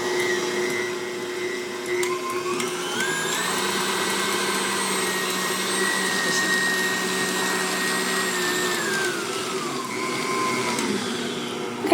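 An electric mixer whirs steadily while beating a carnivore protein bread batter, its motor pitch rising and holding high through the middle before dropping back, loud and continuous with no talking.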